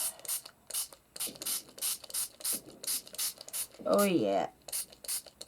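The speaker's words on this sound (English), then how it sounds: "I'm going to mist this and then dry it." A spray bottle mists repeatedly in quick, regular hissing bursts, close and fairly loud, while a person briefly speaks over it.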